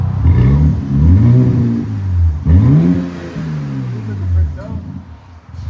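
A 2025 RAM 1500 with a 3.0L Hurricane I6 and Black Widow Angry Housewife exhaust revs loudly and close, three deep rising-and-falling blips in a row before settling to a low rumble.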